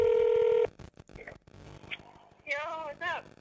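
A long, loud telephone keypad tone sounds alone at the start as a caller dials in to a comedy podcast, followed by quiet whispery voices and short phone-line talk.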